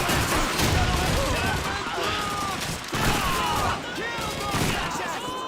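A video game battle against fascist infantry, with dense, continuous gunfire and crackling shots layered under shouting voices across a busy, chaotic soundscape.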